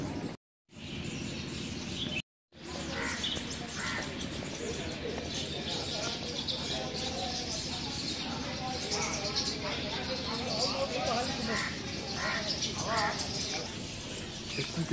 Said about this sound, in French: Écoutez-moi ce chant des oiseaux quoi.